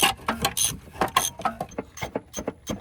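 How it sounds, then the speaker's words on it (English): A ratcheting wrench removing a row of bolts from a car engine, giving short bursts of mechanical clicking in an uneven rhythm, close and moderately loud, with no talk. "we are now taking off the 9 bolts over here"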